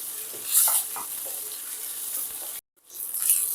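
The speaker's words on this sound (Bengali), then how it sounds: "আলুটাকেও একটু ভেজে নেব" Boiled potato pieces sizzling in hot oil in a pan, a steady crackle with stirring scrapes, cutting out briefly before the sizzle resumes.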